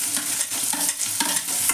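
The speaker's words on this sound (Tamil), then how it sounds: "நல்லா வதக்கி விட்டுட்டு" Beans and carrots sautéing in a pan for wheat rava kichdi, with loud close sizzling and a few quick rhythmic scrapes of stirring, no voices.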